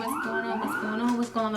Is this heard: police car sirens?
yes